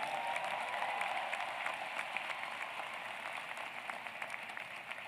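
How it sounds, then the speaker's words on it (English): Faint, steady applause for 2020 graduates at a Rutgers School of Public Health convocation ceremony, a continuous patter of many hands that slowly tapers off. "Would everyone please give me a round of applause for all of our 2020 graduates?"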